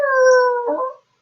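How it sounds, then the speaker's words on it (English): A dog gives a single close, loud whimpering howl, a drawn-out wavering cry that breaks up and stops abruptly after about a second. "I guess you guys can hear my doggie in the background."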